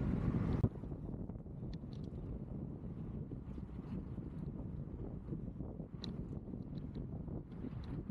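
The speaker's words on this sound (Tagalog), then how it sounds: "Grabe yung hangin." Strong wind roaring steadily across the microphone beside a flooded bike lane area in Khalifa City, a dense continuous rush with brief louder gusts and no speech.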